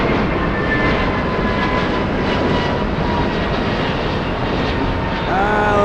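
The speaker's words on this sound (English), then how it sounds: "Let's go over to the 737 using the high-speed taxiway out of 25 left." Loud, steady jet engine roar of a Boeing 737 taxiing at LAX, with a whining tone rising near the end.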